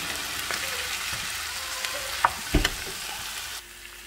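Potato fries in a pan for beet-tortilla quesadillas, a close steady sizzle with a few scrapes and knocks of stirring before the sound drops off near the end.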